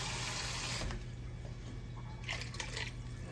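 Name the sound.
pouring water into a pot of braised beef short ribs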